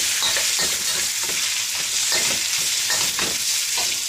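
Prawns sizzle steadily in a hot frying pan over medium heat for a creamy garlic shrimp dish, with repeated soft scraping and tossing sounds riding on a constant bright hiss, close and fairly loud, with no talking.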